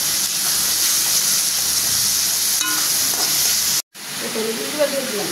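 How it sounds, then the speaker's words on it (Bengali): Pangas fish frying in a pan with crushed garlic, onion, salt and green chili gives a steady, close sizzle and hiss, broken by a brief cut near the end, with faint voice in the background. "ভাজতে ভাজতে একটু লাল লাল হবে।"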